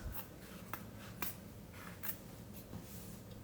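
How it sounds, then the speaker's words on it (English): Scissors snipping off corners of fabric stretched in an embroidery hoop, giving a few quiet, crisp cuts spaced out over soft background hiss. "So I'm just going to cut these corners off"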